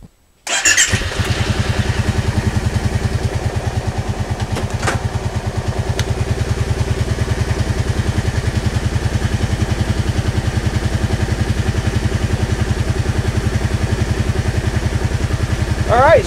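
A vehicle engine cranks and runs during a 12V battery starting test with a handheld battery analyzer, giving a steady, loud, rhythmic pulsing drone with a brief squeal at the start.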